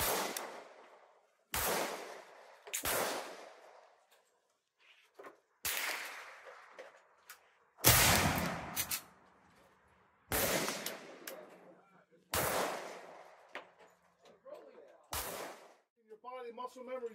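A New York State Militia rolling block rifle fires at an outdoor range: about nine sharp, loud shots at irregular intervals, each followed by a decaying echo, with brief faint handling noises between.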